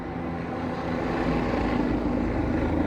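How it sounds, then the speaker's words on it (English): Aircraft rotor and engine noise passes overhead, a steady broadband rumble that grows slightly louder through the clip and is heard alone with no talking. "I don't know what kind of helicopters are going over me"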